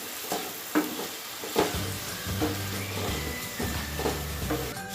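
Chicken frying in a pan while being stirred with white pepper and salt, a steady close sizzle broken by several sharp scraping knocks of the spoon, with low clatter underneath.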